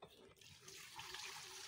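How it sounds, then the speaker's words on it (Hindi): Water pours steadily from a well bucket into a container outdoors, a continuous splashing gush that rises and thickens after a brief quieter start. "देखो अभी डाल रहा है पानी।"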